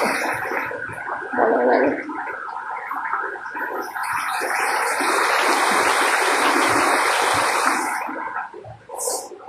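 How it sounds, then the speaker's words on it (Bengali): Cold water running in a park, a steady bubbling gurgle of flowing water close by that swells and holds through the middle, with someone speaking briefly near the start. "এই পানি ঠান্ডা পানি"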